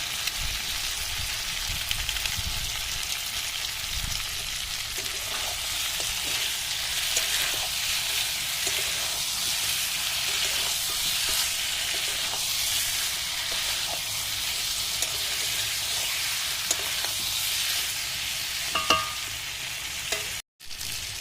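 Country chicken curry fries in a pan, a dense, continuous sizzle running close and loud, with occasional soft clinks of stirring and no talking.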